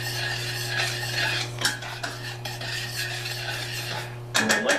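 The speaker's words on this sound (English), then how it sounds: "Stir this up, right?" A spoon stirs a quarter cup of sugar in a kitchen, making soft scraping and clinking strokes against the bowl, with a steady hum underneath and a louder clatter near the end.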